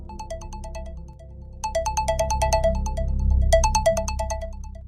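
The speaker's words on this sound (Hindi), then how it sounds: "मोबाइल की रिंग बजी।" A mobile phone ringtone plays a bright, repeating electronic melody in quick bursts over a low background hum, with no talk.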